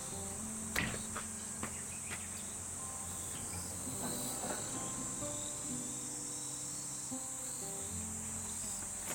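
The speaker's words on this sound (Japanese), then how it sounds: "夏の庭に出ると聞こえてくるのは" Summer garden at a 200-year-old traditional Japanese country house, where a steady high insect chorus of cicadas and crickets drones continuously, with a few faint knocks and bird calls beneath it.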